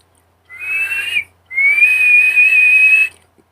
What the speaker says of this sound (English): you can make this other noise that sounds a little bit like a jet, that I cannot control like a whistle